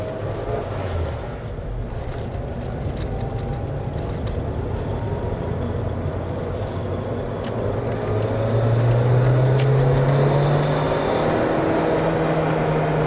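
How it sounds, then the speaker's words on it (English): Toyota MR2 Twin Turbo with an opened-up intake and stock-looking turbos, idling then revving, its engine drone rising and holding louder toward the end, heard close with some wind buffeting and no talking. "With that intake opened up, it does sound pretty nice."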